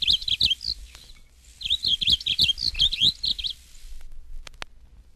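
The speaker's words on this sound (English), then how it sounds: "Page 222, Lazuli Bunting." A Lazuli Bunting sings two bright, rapid phrases of high, jumbled chirps close to the listener, with short gaps of quiet and faint background noise between.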